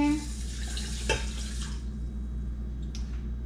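Water poured from a measuring cup into a pot holding one cup of rice, a short splashing gush followed by a few faint drips and trickles over a low background hum.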